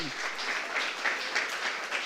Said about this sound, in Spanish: denle la gloria a Dios con un aplauso fuerte